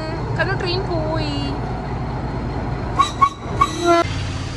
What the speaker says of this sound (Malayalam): ട്രെയിൻ പോവാണ്, കാരണം ട്രെയിൻ പോയി